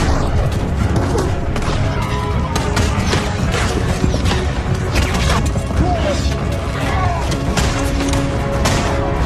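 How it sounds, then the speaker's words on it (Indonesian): Film battle scene with dynamite blasts and gunfire: dense crashes, booms and rapid shots layered over a continuous loud din, with voices mixed in the chaos. "sebagian pasukannya berhasil diledakkan oleh dinamit milik dia sendiri"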